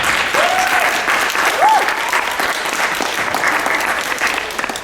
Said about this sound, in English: please join me in a round of applause for these 10 speakers